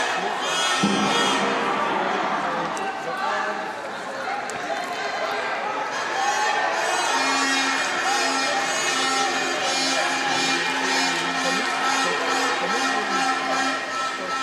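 A large arena crowd at the judo world championships in Hungary cheers and shouts steadily for a Hungarian athlete, a broad sustained roar with rhythmic chanting emerging later, heard from a distance under a commentator's voice.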